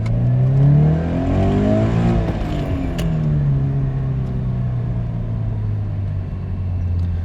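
A Toyota GT86 with an aftermarket valved exhaust, valves open, drones loudly while driving, the engine note sweeping up and down through gear changes before settling into a steady, deep cruising hum.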